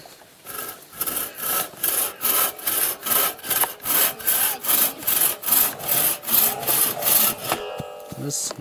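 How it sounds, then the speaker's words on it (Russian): Hand saw cutting through wood in steady back-and-forth strokes, loud and close, about a dozen rhythmic rasping passes before the cut finishes. "Пили, Ваня."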